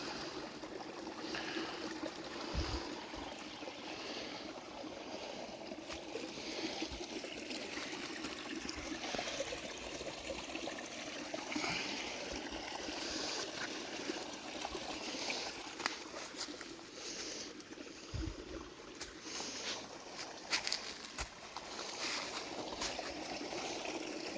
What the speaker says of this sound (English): I could stand and listen to water like that all day.